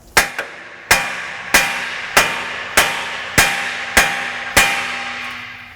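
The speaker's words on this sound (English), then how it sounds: "So I'm just going to hit this with my hammer until this pops loose." Hammer blows on a steel steering knuckle of a 2006 Honda Odyssey, knocking a tie rod end loose: eight sharp, loud metallic strikes at a steady pace of roughly one every 0.6 seconds, each ringing briefly.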